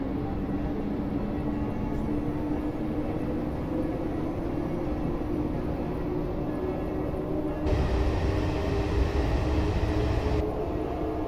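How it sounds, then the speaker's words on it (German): A German S-Bahn commuter train passes at an airport station, a steady loud rumble and hum with a brighter, heavier surge partway through, no talk. "fährt gerade die S-Bahn vorbei"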